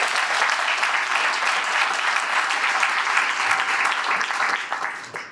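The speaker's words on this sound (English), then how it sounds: "I think they deserve another round of applause" Sustained, dense applause from a book launch audience, loud and steady throughout before tapering off slightly at the end, with no voices standing out.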